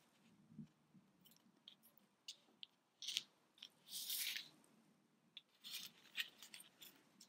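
Yarn being snipped short with scissors while finishing a crocheted amigurumi panda, quiet crisp cuts and soft rustling handling noises, no talking.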